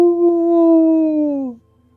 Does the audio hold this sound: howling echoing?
yes